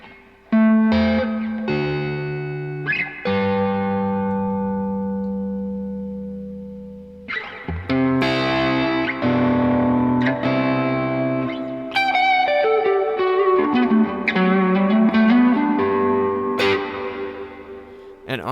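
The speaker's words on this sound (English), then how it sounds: "reverb on the Zoom multi-stomp" An electric guitar played through a Zoom MultiStomp set to its HD Hall reverb, sustained chords and single notes ringing out with long, lush decaying tails, loud and close, with no talking.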